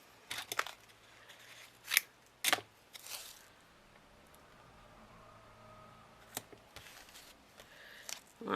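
Broad tape is pulled off the roll and pressed onto cut pieces for a shadow box craft. Several sharp ripping and crackling bursts come close up with quiet gaps in between and no talking.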